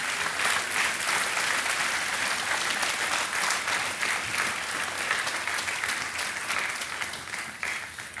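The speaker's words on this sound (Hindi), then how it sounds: "तालियों के साथ हम आपका अभिनंदन करते हैं।" A studio audience applauds a young contestant on the Hindi quiz show Kaun Banega Crorepati season 10, a dense, steady wash of clapping that holds loud throughout and eases slightly at the end.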